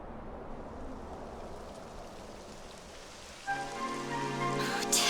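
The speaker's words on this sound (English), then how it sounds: "It would have to go and start raining, wouldn't it?" Steady rain falling in the video game Dragon Quest 11, a continuous soft hiss of drops on surfaces, joined midway by gentle tonal game music layered over the rain.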